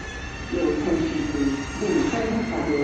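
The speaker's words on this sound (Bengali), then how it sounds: "ট্রেন আসতেছে" A train pulls into an Italian station platform with a steady low rumble and rolling rail noise that grows louder after the first half second and holds, with faint voices nearby.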